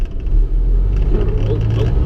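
A Jeep Wrangler's tires spinning in snow on an Illinois road during a snowstorm at night, a heavy loud rumbling whir that runs without a break, heard from inside the vehicle.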